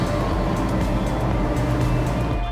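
Engines of a D32 Open motorboat held at high cruising speed produce a steady, loud, broad droning roar that runs unbroken from start to finish.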